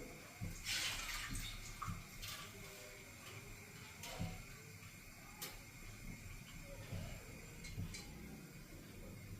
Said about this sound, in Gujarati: એમાં આપણે જરૂર મુજબ પાણી નાખી